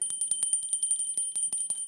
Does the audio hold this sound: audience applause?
no